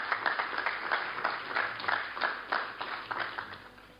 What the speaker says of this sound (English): That would need a round of applause, please.